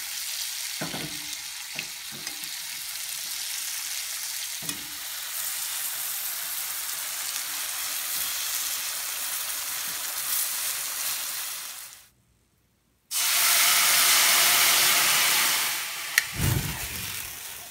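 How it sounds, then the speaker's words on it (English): Bananas cooking in a sizzling sugary mixture in a pan over a large open fire, a steady broad frying hiss with a few clinks of a spoon, briefly cutting out and then returning louder near the end. "you just kind of spoon that mixture across the bananas, helps them cook nice and sweet"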